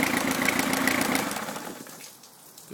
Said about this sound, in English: I'm going to shut the motor off now.